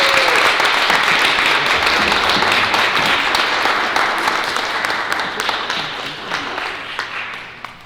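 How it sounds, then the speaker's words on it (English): A school awards-night audience bursts into sustained applause, dense clapping filling the room before slowly thinning out and fading toward the end. "would you all please join me in giving a big round of applause to Vikram Anantha, an incredible student"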